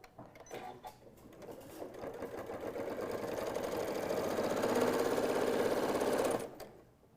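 A home sewing machine top-stitching fabric on a stuffed nativity craft runs as a close, steady mechanical whir. It gradually builds in loudness over about six seconds, then stops abruptly.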